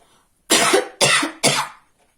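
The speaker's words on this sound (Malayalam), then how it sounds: "ഇങ്ങനെ 5 തവണ ചെയ്തിട്ട് 6ാമത്തെ തവണ നമ്മൾ ചുമയ്ക്കണം" Three forceful coughs come close together, each a loud harsh burst followed by a short gap, with near silence before and after.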